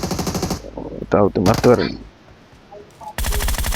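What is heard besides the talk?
gunfire in the video game PUBG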